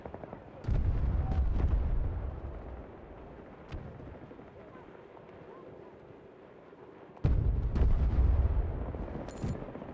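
Heavy gunfire booms in a military shooter video game, with two loud sustained blasts several seconds apart and a few sharper cracks between, fairly close and rumbling.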